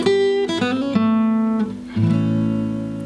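A blues guitar lick in A over a shuffle: a few loud, ringing electric guitar notes with a bend and slide into a sustained final note, played alone and close.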